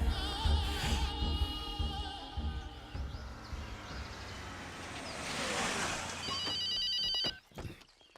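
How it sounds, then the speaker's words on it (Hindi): A telephone rings with a repeating electronic trill that comes in partway through, layered over a dense, rushing film soundtrack, before a sudden cut near the end. "भैया, डीएसपी का फोन है।"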